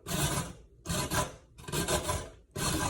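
Carrots are grated by hand on a grater in a kitchen for carrot cake: four rhythmic rasping strokes, each about half a second with brief gaps between them. Close and moderately quiet, with no talking.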